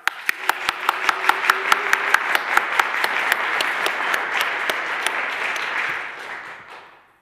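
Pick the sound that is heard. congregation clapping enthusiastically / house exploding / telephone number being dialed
congregation clapping enthusiastically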